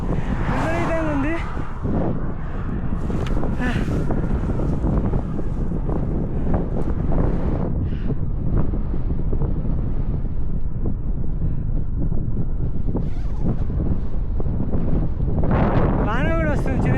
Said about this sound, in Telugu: గాలి విపరీతంగా ఉంది.